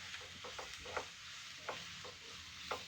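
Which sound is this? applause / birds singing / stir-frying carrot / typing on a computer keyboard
stir-frying carrot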